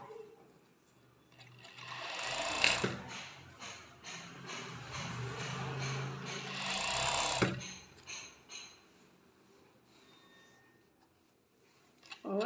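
An overlock serger stitches a seam on a maxi top where the bodice meets the skirt, a steady mechanical whir running in two long bursts with a pause between, close by; talk is heard faintly alongside.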